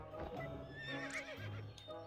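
A horse whinnies with a rising, shaky neigh over a busy layered background of sound from the game To The Moon, with no talking.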